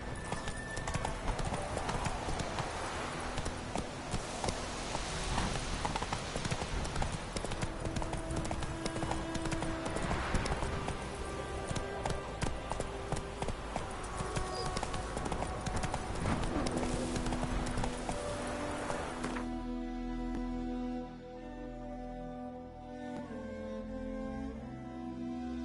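Horse galloping in The Witcher 3: Wild Hunt, a steady rapid drumming of hooves that runs for about twenty seconds, then drops away to quieter game sounds with lingering tones.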